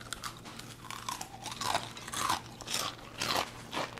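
Fresh homemade potato sticks crunched while eaten, a close series of crisp bites and chewing crackles in irregular bursts, with no talking.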